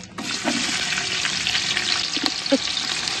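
Cinnamon and onion sizzle steadily in hot oil as the base for a traditional village-fair mutton curry, with a continuous close frying hiss and a few brief stirring clinks and scrapes.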